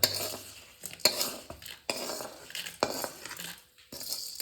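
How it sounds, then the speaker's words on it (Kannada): A spoon scrapes and knocks against a bowl in irregular strokes as fried tempering is mixed into wheat flour, close and fairly quiet, with no talking. "ಒಗ್ಗರಣೆದೆಲ್ಲ ಗೋಧಿ ಹಿಟ್ಟಿಗೆ ಬೆರೆಸಿದ್ದೀವಿ"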